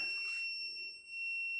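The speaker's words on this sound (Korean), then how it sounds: "핀을 다 쓰면은 이런 알람이 울리고" A nail gun's empty-pin alarm gives a steady, high electronic double-tone beep that holds loud and continuous, with a brief click at the start.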